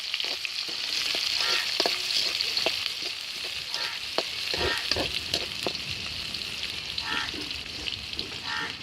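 Chopped onions sizzle steadily in a pan for a village-style snail curry, a continuous bright crackle broken by sharp scraping stirs and occasional clinks, close and fairly loud throughout.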